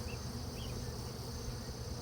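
Honey bees buzz at an opened hive while nurse bees tend larvae and brood in a productive single-box colony; a steady, fairly faint low hum drones on continuously with no voices.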